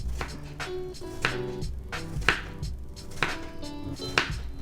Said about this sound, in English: This one's a little thicker, so let's go ahead and cut him into 3. And let's go ahead and cut on up.